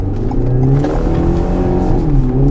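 A Renault Talisman Grandtour 1.6 TCe 150 accelerates into a corner, its engine note rising and shifting in a loud, steady drone heard from inside the car.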